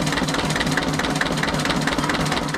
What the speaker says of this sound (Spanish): Motores encendidos.